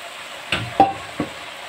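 Fried potatoes, carrots and onion tossed together in a home cooking pan: three brief scraping stirs over a faint background sizzle, close and fairly quiet.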